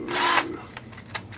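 A power drill whirs in a short burst, driving a screw into an Axial Yeti XL RC truck chassis during assembly, followed by a few faint, brief clicks and taps close by.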